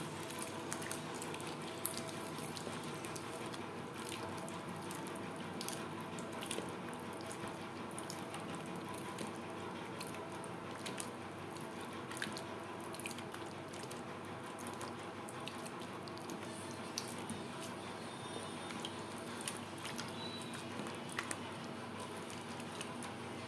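Wood apple pulp is squished and stirred by hand in cold water, giving a steady wet sloshing and soft patter, close and fairly quiet, continuing without pause and with no voices.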